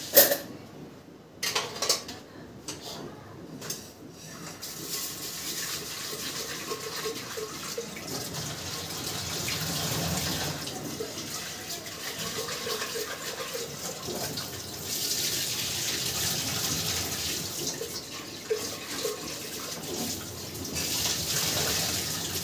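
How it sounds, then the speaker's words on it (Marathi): Moong dal being rinsed under a running kitchen tap, with a steady hiss of flowing water and splashing in a pot, preceded by a few clinks of handling at the start. "मुगाची डाळ धुवून घेतली 2-3 पाण्याने."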